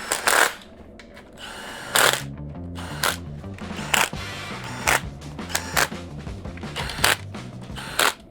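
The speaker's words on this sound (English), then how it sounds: "take the impact gun with an 8mm socket and just work your way around and tighten up all the nuts" Impact gun with an 8mm socket tightening nuts on a Royal Alloy GP350 scooter during drive belt fitting, giving short sharp bursts of rattling hammering repeated around a dozen times with brief gaps, close and loud.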